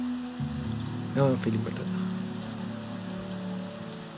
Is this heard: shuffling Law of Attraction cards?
no